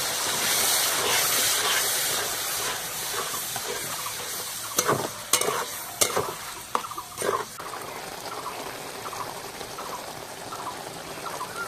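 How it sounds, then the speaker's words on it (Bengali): Biryani spice paste fries in oil with a loud, continuous hiss, while a handful of sharp scraping strokes from stirring break through in the middle. "এবার আমি মশলাটা ভালো করে কষবো।"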